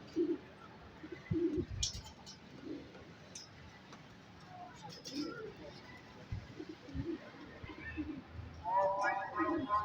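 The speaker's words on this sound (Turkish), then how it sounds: "Evet kuşlar yavaş yavaş konuyor." Pigeons landing on a rooftop loft coo softly amid rustles and faint chirps, with wing flutters and a person talking quietly in the background.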